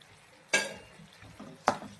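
Spring onion greens being stirred in a pan for a kandapat bhaji, two quick scraping strokes of a spoon over a faint background sizzle, with no talking.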